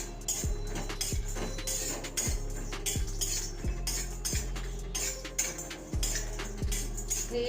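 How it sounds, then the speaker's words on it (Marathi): Coconut roasts in a little oil in a pan, mostly heard as a spoon or spatula knocking and scraping the pan in regular strokes over a steady low sizzle, close and without talk. "सगळ्यात आधी आपण खोबरं भाजून घेऊया छान म्हणजे असं ब्राऊन कलर येईपर्यंत हे भाजून घ्यायचे"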